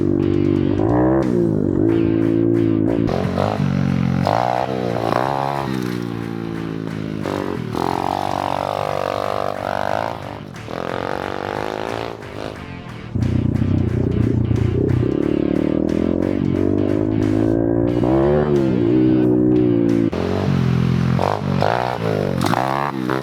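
A cheap adult dirt bike's engine revs loudly and continuously while being ridden, its pitch climbing and falling with the throttle, with a short dip in the middle before surging again.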